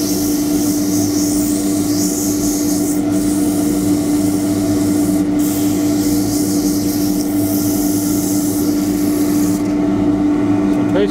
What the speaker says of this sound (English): this gets sanded now. 180 grit should be enough.